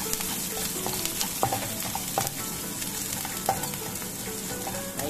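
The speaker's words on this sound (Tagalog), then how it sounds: "ilagay ko na lang ang aking sibuyas at bawang. Ayan, so gisa-gisa muna" Onion and garlic sautéing in hot oil in a pan, a steady close sizzle with scattered crackles and occasional stirring scrapes of a spatula throughout.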